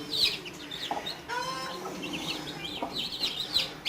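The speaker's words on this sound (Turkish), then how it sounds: "4 8 11, 15 tane civciv var." Fifteen Light Brahma chicks peep in high, busy chirps while a hen clucks softly nearby, a steady jumble of small bird calls close to the microphone.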